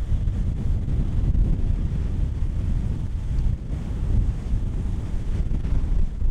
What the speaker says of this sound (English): Here comes another gust.